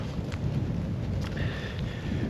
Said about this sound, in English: I'm getting battered with wind and the rain